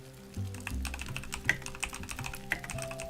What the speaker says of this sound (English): Excuse my loud keyboard.